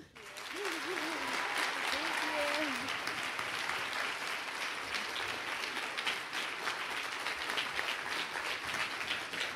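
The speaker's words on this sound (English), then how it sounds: "this is a round of applause for you." An audience at a middle school Christmas concert applauds a teacher, a loud sustained roar of clapping that holds steady throughout, with a brief voice heard at the start.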